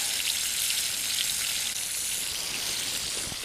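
Fish fries in a hot pan over an open fire at a winter ice camp, a dense, steady, crackling sizzle that stays loud and close with no talking.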